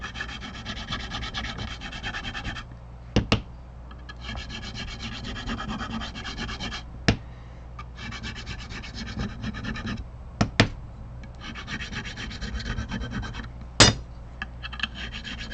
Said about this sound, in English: Switch this over to 300 grit and then we'll start polishing.